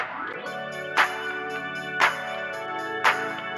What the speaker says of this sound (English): I chose to add like an organ slide.